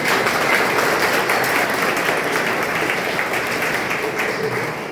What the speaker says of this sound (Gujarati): તો આપણે સૌ પહેલા એમને તાળીઓથી વધાવી લઈએ